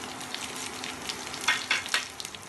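Garlic cloves and chilies frying in hot oil for a bottle gourd stir-fry, with a steady close sizzle and a few louder crackling bursts as they are stirred.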